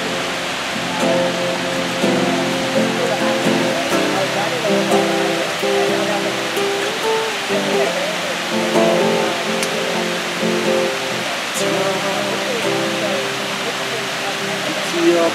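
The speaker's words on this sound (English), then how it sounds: "the sound of the water falling" A steady rushing hiss of falling water runs through a recorded song, continuous and fairly loud beneath the sustained music and singing.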